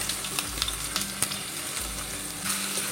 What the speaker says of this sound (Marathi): लसूणाची छान जराशी परतवून घ्यायचे